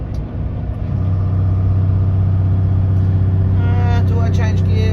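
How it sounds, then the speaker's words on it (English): A manual car held in fifth gear drones with a steady, loud low engine rumble while driving toward Adelaide, and a voice talks over it near the end. "Give it another rev. Yeah, see, even in fifth gear without."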